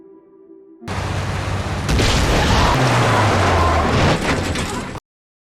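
A sudden loud boom from a film scene explosion, bursting in after near silence and sustained as a dense, rumbling roar for about four seconds before cutting off abruptly.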